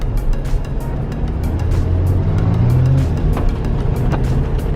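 A motorcycle engine drones steadily as the bike is ridden past, a loud sustained hum that swells slightly in the middle, with a few faint clicks on top; no speech.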